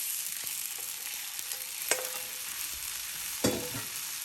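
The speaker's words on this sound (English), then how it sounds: "I will constantly stir this, continuously stir this till the besan becomes a thicker consistency" Curry leaves and a besan mix fry together in a pan under a quiet, steady sizzle, with a couple of distinct scraping strokes from stirring, heard close and without talk.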